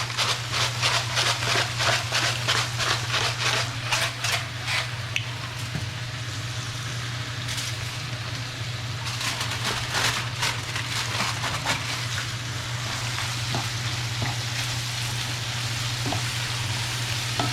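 Steak with black pepper for Mexican-style carne a la mexicana fries loudly in a pan, a constant close sizzle broken by repeated sharp scraping strokes of stirring throughout, with a low steady hum underneath and no speech.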